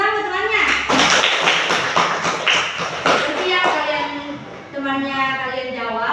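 Children in a classroom clap together in a short burst of scattered claps, then settle as a teacher's voice takes over.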